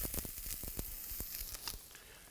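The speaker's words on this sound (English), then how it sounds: "We're going to take almost all the garlic, put in the pan," Garlic and onions hiss and crackle in a hot pan, with a dense, continuous sizzle broken by quick popping spits, close and fairly quiet, with no voices.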